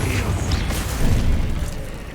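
A Confringo spell explosion in Hogwarts Legacy lands as a loud, low, rumbling burst that swells and then fades over about two seconds.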